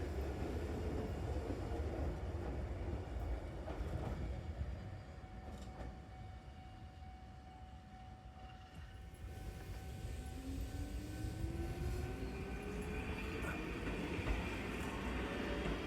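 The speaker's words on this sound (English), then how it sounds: "Beary got very excited when he spotted the Kirara train, which is designed specifically as a sightseeing train." Kirara sightseeing train on Kyoto's Eizan Line running steadily and close by, a continuous low rumble of wheels and motors with a tonal whine rising near the end.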